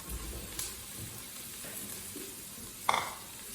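Onions frying in a pot for soup, a soft, steady low sizzle with a brief scrape or knock of stirring near the end, quiet and close.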